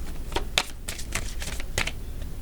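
Tarot cards are shuffled by hand in a series of quick, crisp riffling bursts, about eight in a few seconds, close and clear over a soft background hum with no talking.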